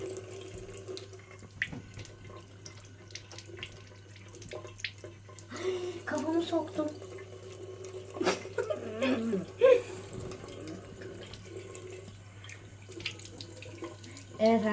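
A tap runs steadily into a sink while someone washes their face, a continuous close splashing stream with irregular bursts of splatter as hands dip into the flow.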